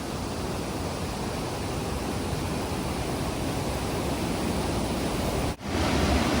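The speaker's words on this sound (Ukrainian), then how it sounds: "чаюємо ми ось так біля водоспаду" A waterfall near Yaremche in the Carpathians gives a steady, dense roar of falling water with no break except a brief dip near the end.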